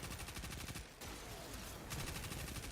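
Sustained automatic gunfire from a Destiny first-person shooter, a dense continuous burst of rapid shots with a brief dip near the one-second mark before the firing resumes, loud and close.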